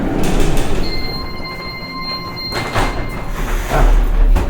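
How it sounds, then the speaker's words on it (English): An elevator rumbles and hums up close, with faint steady electronic tones ringing over the mechanical whir and a sliding rush near the end. "The elevator sounds like a slot machine."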